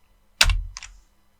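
Keys on a computer keyboard are pressed for a Ctrl J shortcut in Blender, two quick close clicks about a third of a second apart, the first louder, in an otherwise quiet room.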